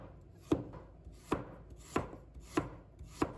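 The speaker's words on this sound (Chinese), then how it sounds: "一条胡萝卜，把它切成小块" A knife chopping a carrot into small pieces on a cutting board: five crisp, evenly spaced cuts roughly two-thirds of a second apart, close and clear with no talking.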